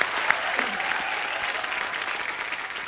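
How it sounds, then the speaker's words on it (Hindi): A television comedy show's studio audience breaks into steady, dense applause that holds at an even level throughout, with faint crowd murmur underneath. "इस बात के लिए जोरदार तालियां।"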